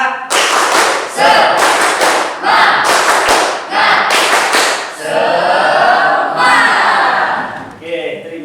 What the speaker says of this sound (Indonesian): Satu kali lagi, tepuk semangat.